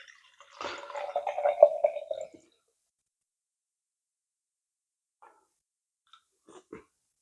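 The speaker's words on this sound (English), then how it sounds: "That's carbonated water right there too." Carbonated Key energy drink, pineapple passionfruit or ginger lime flavor, is poured into a container for about two seconds, giving a fizzing splash with a rising filling tone, followed by quiet and a few faint clicks.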